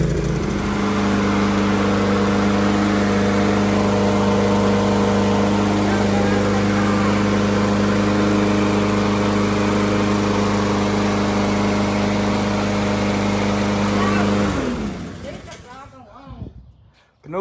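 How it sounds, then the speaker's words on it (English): A free secondhand lawnmower engine runs loud and close with a steady mid-pitched drone, holding constant for about fourteen seconds before cutting off and spinning down to quiet. "First pull. First freaking pull. Free lawnmower."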